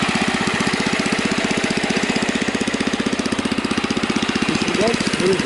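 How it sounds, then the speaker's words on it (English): A Husky engine idling after a new switch was fitted, a close, steady rapid chugging pulse with an even rhythm throughout, a brief voice-like sound near the end. "It runs smoothly at idle."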